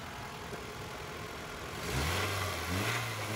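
A Suzuki Cultus VXL car engine runs while parked, a steady idle hum that rises into a louder rev partway through, heard close and alone.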